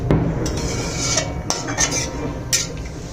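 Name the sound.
stirring potatoes with water in a pot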